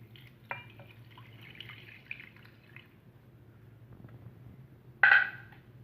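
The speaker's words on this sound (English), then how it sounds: "Now we will adding 1 mug of water." A mug of water is poured into a microwave-safe bowl for instant noodles, a short liquid splash and trickle up close, followed by quieter kitchen handling and a sharp clink near the end.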